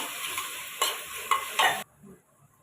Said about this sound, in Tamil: அப்புறம் தக்காளி சேர்த்துக்கலாம். நல்லா வதக்கி விட்டுக்கலாம்.